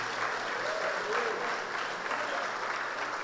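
A church congregation applauds during a sermon, a continuous, moderately loud blur of many hands clapping, steady throughout, with voices and faint music mixed underneath.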